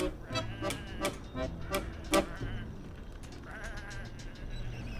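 Sheep in the video game Whateverland bleat repeatedly in quick, wavering cries, several overlapping calls in a row that fade into a softer background murmur, with no talk.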